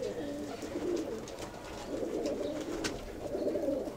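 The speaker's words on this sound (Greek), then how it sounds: "Αυτά ήταν τα περιστέρια του." Domestic white-and-pied pigeons cooing in a loft, soft repeated low throaty coos rising and falling close by, with faint chirps and light background noise.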